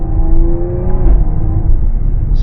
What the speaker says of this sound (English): And then there's that little crackle it does when you shift.